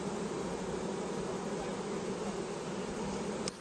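A dense, steady buzz of a swarm of honeybees being put into a box fills the air up close, a continuous droning hum without pauses.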